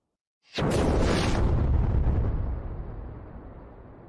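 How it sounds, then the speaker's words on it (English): After a brief silence, a sudden explosion sound effect bursts in loud and close, its deep rumbling roar sustained before gradually fading over several seconds, with no one talking. "There's the explosion."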